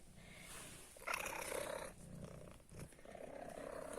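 A cat purrs steadily and close up, a soft continuous rumble with a brief louder swell partway through.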